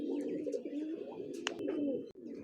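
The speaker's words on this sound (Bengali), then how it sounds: "পাঞ্জাবি মালওয়াই পায়রা।" A Punjabi Malwai pigeon in a home loft gives soft, low cooing over a busy background murmur, with a brief sharper chirp partway through.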